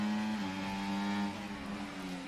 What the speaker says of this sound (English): You can hear the AI using that traction control.